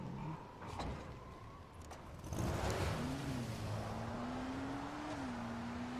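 A car engine in the video game Dying Light, upgraded with a level 2 engine part, revs up and holds a sustained droning pitch as it drives, after a few brief thumps.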